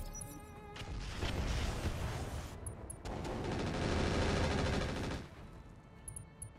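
Video game turrets firing in two long dense bursts of rapid gunfire, loud and close, with a short lull between them and quieter action sounds before and after.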